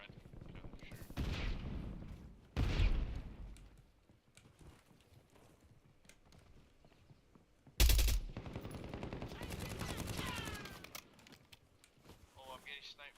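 Sniper and rifle gunfire in a battle-royale video game match, with sharp loud reports, one heavy close crack near the middle, and bursts of fire over ambient game noise and a talking player.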